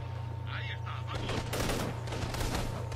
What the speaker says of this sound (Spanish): ¿Quién me dispara? ¿Quién me dispara?